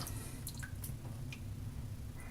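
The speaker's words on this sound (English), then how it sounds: "I'm going to add some water." Small drips and splashes of water fall onto an avocado and sea salt shave soap lather, faint and sparse over a steady low background hum.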